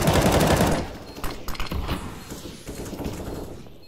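Automatic rifle fire in the video game CS:GO, a loud rapid burst of shots at the start that breaks into a few scattered shots and mechanical clatter, then fades into quieter game ambience.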